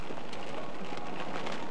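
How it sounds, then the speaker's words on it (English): Steady rain pours down during a tornado chase in the open, a dense, even hiss close by with no voices. "Let's get out of this rain."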